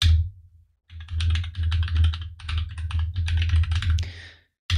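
Quick bursts of keystrokes on a computer keyboard as a password is entered at a command-line prompt, close and fairly loud, with short pauses between runs and no talking.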